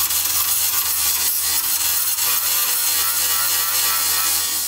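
Harsh, continuous grinding and cutting at close range as old body panel metal is cleaned up and cut away on a Range Rover Classic, loud and steady throughout with no speech.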